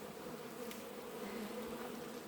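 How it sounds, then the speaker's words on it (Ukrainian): Wasps buzz around a beehive in late autumn, a faint continuous droning hum of several insects flying close by, with no talk. "Осів повно."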